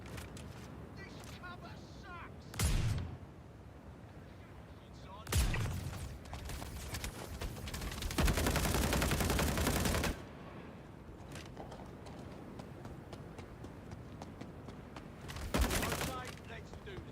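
Heavy-recoil gunfire in Star Citizen: two sharp single shots, then a sustained two-second burst of rapid fire and one final shot, with someone talking quietly between them.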